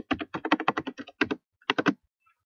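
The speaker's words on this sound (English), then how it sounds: "I may have to switch back to my other keyboard because this one's not working well for me" Rapid clacking keystrokes on a computer keyboard, about twenty quick taps in bursts with a short pause, close and clear with no talk.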